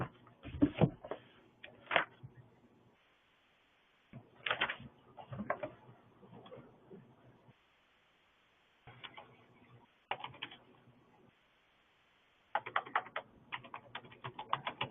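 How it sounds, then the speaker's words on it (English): Typing on a computer keyboard: quiet, close clusters of key clicks in irregular bursts separated by silent pauses, with no talking. "you type your answers in"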